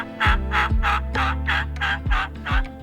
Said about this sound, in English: hunters mimic a hen's yelp, triggering an instinctive gobble.